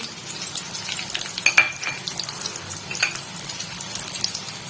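Onion and garlic dropped into hot oil in a kadai for egg Maggi, giving a steady close sizzle of frying with scattered stirring clicks and small spatters throughout.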